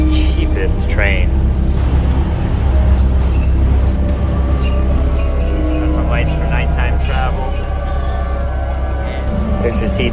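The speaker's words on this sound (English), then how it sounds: "The windows rattle quite a bit." Inside a moving carriage of Bangkok's cheapest train, a loud rumble of wheels with rattling windows and squealing metal, while a person speaks over the noise.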